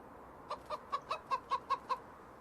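Chickens clucking in a coop in Farming Simulator 19, a quick run of about eight clear, evenly spaced clucks over a quiet background.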